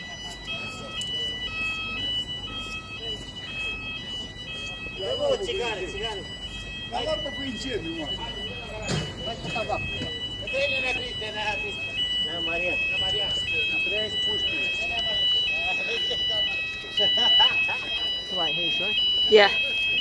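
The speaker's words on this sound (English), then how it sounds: "Wow, we got a fire alarm now." A fire alarm sounds steadily through the whole stretch at a Thurrock motorway service station, a repeating electronic tone carrying over the indoor crowd as people talk nearby.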